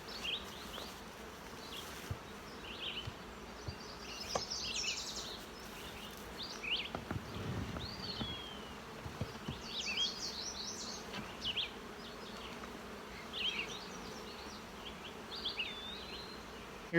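Honey bees hum and buzz steadily around an opened nuc colony as a frame of bees with nectar is lifted, a soft continuous drone with individual bees zipping close past, faint birdsong in the background.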